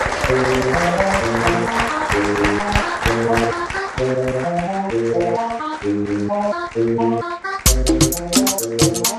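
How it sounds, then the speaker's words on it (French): An audience claps loudly for a performer named Martinez at a live show, steady applause running under prominent rhythmic music throughout. "Est-ce qu'on peut applaudir très fort pour celui-là qu'on appelle Martinez, s'il vous plaît?"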